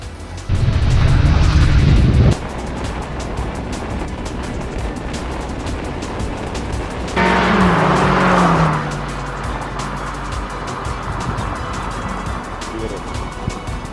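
A Mazda 2 and a Proton Persona launch in a B-segment drag race, engines roaring in two loud bursts of acceleration separated by a quieter stretch of passing road noise.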